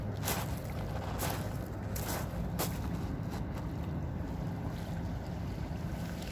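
Out at sea, a ship passes while wind buffets the microphone and waves wash and slap near a small boat, a steady rushing roar with a few sharp splashes.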